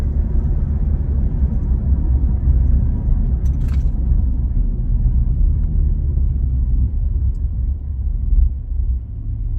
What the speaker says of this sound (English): it's loud for being a straight pipe